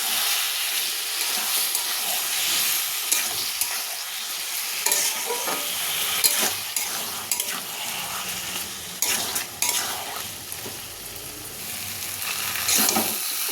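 Ginger, garlic and onion spice paste fries and is stirred in a pan alongside jackfruit and potato, steady close sizzling with repeated scraping strokes of the spoon, loud and unbroken with no voices.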